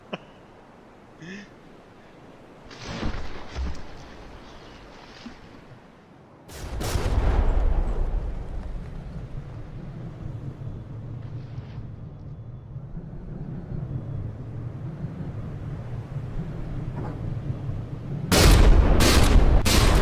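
Artillery shells fire and slam into the ship Manstein during a From The Depths frigate tournament battle: loud booming impacts around 3, 7 and 18 seconds, with a steady rumbling roar of engines and water between them.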